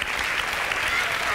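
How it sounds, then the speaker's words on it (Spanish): A brief burst of audience applause in a television talent show studio, dense clapping from a crowd mixed with some vocal noise, lasting only a moment. "Un aplauso, por favor."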